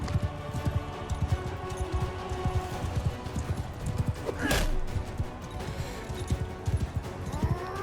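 Horse hooves clip-clop steadily in Mount & Blade Bannerlord, a quick continuous patter of hoofbeats close by, with a brief crash midway and faint battle noise underneath.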